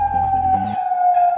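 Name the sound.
sirens blaring in a city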